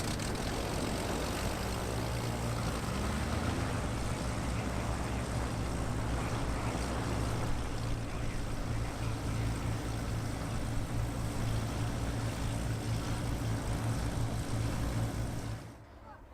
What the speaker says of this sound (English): the 4 aircraft with the Global Stars starting up as well